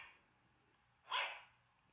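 A dog at a pet resort gives one loud, close bark in a short burst, with a quiet room before and after it.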